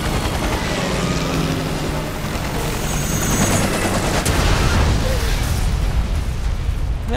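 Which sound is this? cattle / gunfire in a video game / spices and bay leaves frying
gunfire in a video game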